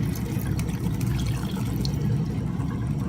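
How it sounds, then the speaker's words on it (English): Water poured into mee curry cooking in a pan, a dense, steady rush of liquid close by for a few seconds without pause, no voices over it. "Now pour in all the water because it's drying up."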